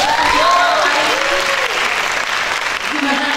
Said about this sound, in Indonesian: sekali lagi kita beri tepuk tangan yang meriah.